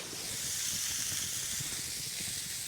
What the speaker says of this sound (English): I gotta let you hear the steak sizzle.